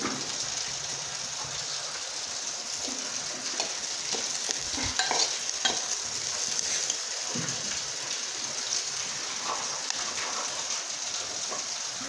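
Green chillies roast in a pan on a gas stove, giving a steady, close sizzle with light stirring scrapes throughout and no voices.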